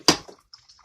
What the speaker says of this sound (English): And I'm going to pour my water into my pan.